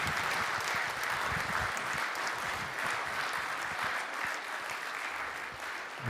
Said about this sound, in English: Ladies and gentlemen, let's give the candidates a round of applause